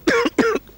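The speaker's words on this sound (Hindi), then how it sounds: "खांसी है जनाब।" A man coughs twice in quick succession, two short, rough, close bursts with a brief gap between them.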